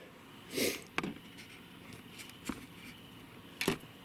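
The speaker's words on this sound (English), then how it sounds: "sorry for sniffing too as well." A few short sniffs, close by, spaced out over a quiet background hum.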